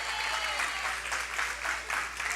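Church congregation at an evening worship service clapping in sustained, even applause, steady and moderately loud, with crowd noise blended in.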